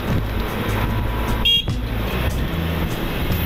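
Street traffic on an Indian road passes a rider on an electric bike, a steady low roar of engines and tyres with one short horn toot about midway.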